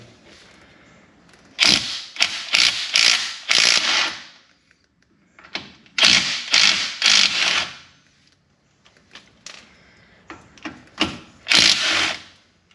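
A ratchet working skid plate bolts loose, fast bursts of clicking in separate runs of a second or two, close and crisp, with quiet pauses between.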